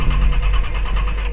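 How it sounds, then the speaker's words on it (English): A car engine cranks without catching, a steady mid-pitched churning rumble that stays loud and close for a brief moment with no voices. "the engine sputtering but never catching"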